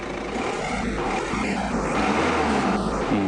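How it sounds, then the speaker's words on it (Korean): A small car's engine hums steadily at idle in normal mode, a continuous low drone with broadband noise, heard from inside the vehicle. "엔진 소리는 은근히 조용해요."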